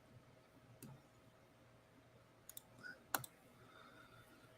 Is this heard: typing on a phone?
yes